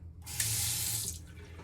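Water streams steadily from a bathroom sink faucet in a hotel room at Hyatt Regency Orlando International Airport, a close, even hiss that starts abruptly and then tapers off.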